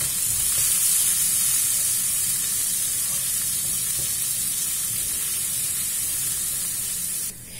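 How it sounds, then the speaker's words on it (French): Spices toasting in hot oil in a pan, a loud, continuous close sizzle and hiss that holds steady throughout, with no voices. "là je suis en train de torréfier mes épices"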